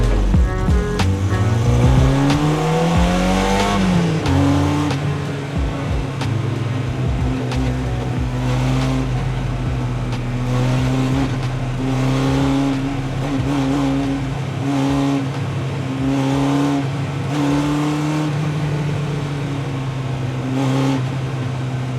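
The engine of a 1967 Triumph Spitfire race car revs loud and close during a test drive, rising in pitch, then holding a steady droning note with repeated throttle swells and no talk.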